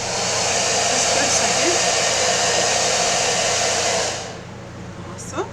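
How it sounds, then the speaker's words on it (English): A hair dryer blows steadily at close range over a decoupage wood sign, a continuous loud whooshing hiss that switches off after about four seconds and leaves a quiet room with a small knock. "let's dry that off"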